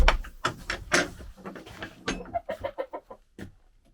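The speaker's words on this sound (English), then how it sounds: "The chickens are outside. They are not very happy about it" Agitated chickens clucking in a rapid run of short, close calls, some louder bursts up front and then a quicker string of clucks, after being turned out of their coop.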